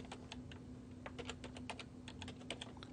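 Typing on a computer keyboard, a quick irregular run of light key clicks up close, quiet and alone over a faint steady hum.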